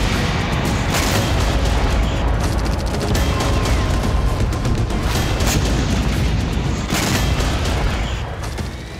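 Kamikaze drone strikes at night in Feodosia, Crimea: a dense run of booms and sharp crackling blasts, one after another, loud and continuous for several seconds before easing slightly. No one speaks.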